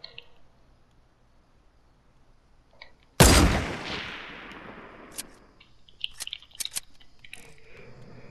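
A single loud gunshot in the Fortnite video game, a sharp crack with a long fading tail, followed by faint scattered ticks and small impact sounds in a quiet scene.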